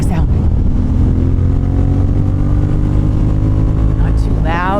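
A Honda 750 Hornet motorcycle fitted with a new exhaust idles with a steady, low, even rumble held close by, and a voice speaks briefly over it near the end.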